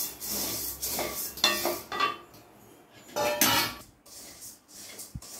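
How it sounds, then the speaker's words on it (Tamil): Coriander seeds dry-roasting in a pan without oil while being stirred steadily: close, irregular scraping, rattling and metallic clinks of the utensil against the pan, coming in short bursts with brief pauses. "எண்ணெய் எதுவுமே ஊற்றாமல் கொத்தமல்லி, வர கொத்தமல்லி நம்ம போட்டுடலாம். கொஞ்சம் கைவிடாமல் வறுக்கணும்."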